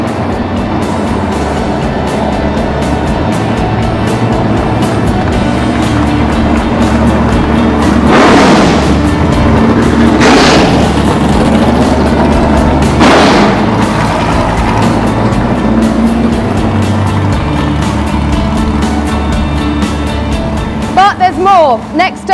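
Loud 1970s McLaren Can-Am race car engine roaring near and steady, with a few surging revs standing out, while a voice talks over it.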